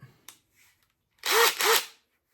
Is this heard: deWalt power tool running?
yes